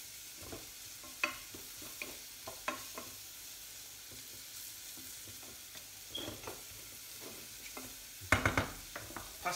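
Bacon and mushrooms frying in a pan while being stirred, a quiet continuous sizzle broken by scattered scraping and clicking of the utensil, with a louder clatter near the end.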